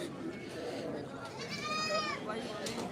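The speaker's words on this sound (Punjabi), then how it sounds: "ਵਧੀਆ ਮੰਡੀ ਲੱਗੀ ਹੋਈ ਦੇਖੋ ਬੱਕਰੇ ਬੱਕਰੀਆਂ" Goats bleat in wavering, quavering calls amid a busy goat market in Mullanpur Dakha, Ludhiana district, Punjab, with people talking in the background.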